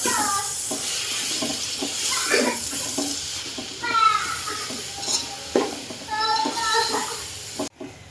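Noodles and masala are stirred in a frying pan with a steady sizzle and repeated scraping strokes close by, while someone talks over the cooking.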